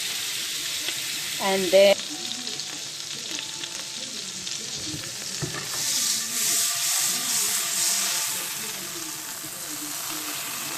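Butter sizzling and melting in a pan for lasagne, a close, steady frying hiss with scraping and rubbing against the pan; a voice speaks briefly.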